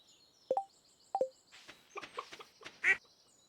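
Duck quacking on the farm in the Stardew Valley video game: two short quacks close together, then a quick run of softer chattering calls ending in one louder squawk.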